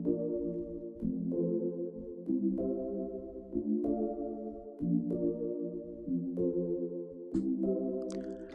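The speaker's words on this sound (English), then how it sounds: "Next up, I added these chords from a plugin called Spire," Synth chords from the Spire plugin play for an Afrobeats track, a steady sequence of sustained chords changing roughly every second, warm and moderately soft, with no voices.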